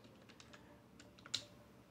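Quiet, close tapping of computer keys as an operating system name is entered during a Debian Linux setup in VirtualBox. A short run of light, irregular keystrokes ends in one slightly harder press, with no voices.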